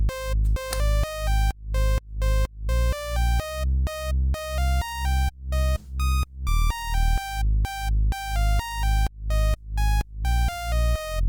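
Saw wave synth melody from the Serum plugin, pitched down an octave, playing a steady run of short buzzy rhythmic notes, loud and continuous with no voices.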